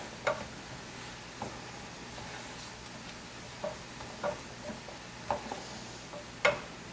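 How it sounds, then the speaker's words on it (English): Light tapping and scraping of a utensil against a pan while stirring a strawberry agave glaze, with sparse, irregular clicks over a low background hum and no talking. "Real quick, stir this all together."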